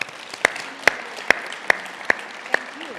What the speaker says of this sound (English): let's give a big applause to our panel members